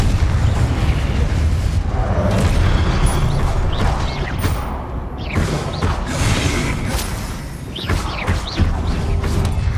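Confringo fire-spell blasts in Hogwarts Legacy on PS5 come as repeated booming explosive bursts over a dense, continuous backdrop of game effects and rumble.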